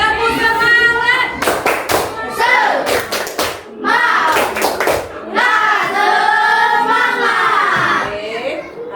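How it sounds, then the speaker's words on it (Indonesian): A classroom of children performs a rhythmic spirit clap, bursts of hand claps in quick patterned groups mixed with loud young voices chanting along, close and lively. "Ayo semuanya, tepuk semangat."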